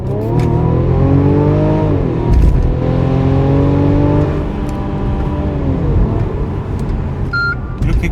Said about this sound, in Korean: 가속을 할 때 말이죠. 얘네가 기본으로 세팅해 놓은 가속 상태에서는 뭐 요런 정도를 보여주고 있잖아요.